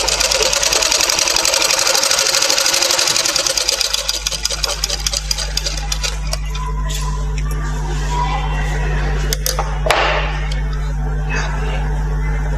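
A sewing machine stitching fabric during a tailoring lesson runs in a fast, steady mechanical rattle for the first few seconds, then slows and fades to a low hum and hiss with a brief clack near the end.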